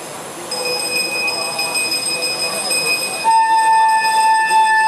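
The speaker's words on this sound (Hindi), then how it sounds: "शंख की ध्वनि आपको बता रही होगी" A conch shell is blown at the opening of the Chamunda temple: a long, steady, nasal horn tone swells in and holds loudly, changing pitch once midway, over a bustling crowd with ringing temple bells and people talking.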